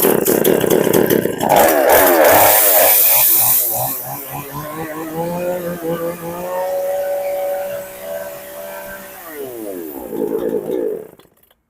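A model 120 chainsaw engine starts with a rough sputter, then revs and idles loudly up close before cutting off, with a brief voice over the noise.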